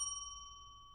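A single bell ring marks one minute left in cross-examination at a student debate competition. It is one faint, clear ding that rings on and slowly fades.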